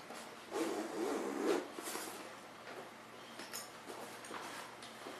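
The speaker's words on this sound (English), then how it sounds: "I'm going to seal the zipper out." A zipper is drawn closed on an LL Bean waterproof sling bag packed with gear, several raspy pulls in close succession, fairly quiet and up close with no talking.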